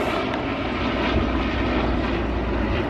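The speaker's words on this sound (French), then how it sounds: "Avion, regarde, regarde, bébé." An airplane flying over a park gives a loud, steady, broadband engine roar that holds evenly throughout, with no voices over it.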